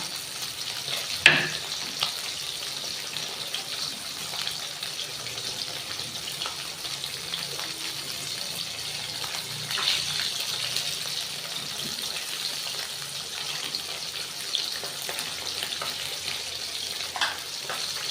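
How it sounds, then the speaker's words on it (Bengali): Rohu fish sizzles steadily in hot oil, a constant crackling hiss with an occasional clink of a utensil near the start. "আর ওইদিকে মাছটা ভাজা হচ্ছে"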